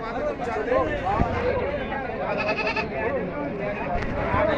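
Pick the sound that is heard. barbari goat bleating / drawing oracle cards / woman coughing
barbari goat bleating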